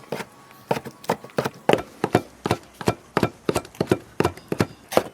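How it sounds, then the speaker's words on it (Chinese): A cleaver chops braised pork belly into small bits for meat-filled flatbread. The blows land close and crisp, about a dozen and a half in a steady rapid rhythm with no talking. "煮好的五花肉往碎剁一下。"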